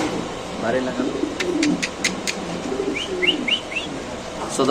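Soft, throaty cooing from fancy pigeons, male and female, nearby, repeated in low rolling phrases, with a few sharp chirps and a person talking underneath.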